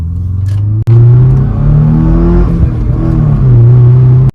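A Subaru engine fitted with a newly installed cold air intake revs loudly and close by, a deep steady drone rising and falling over a few seconds with a brief dip near the start.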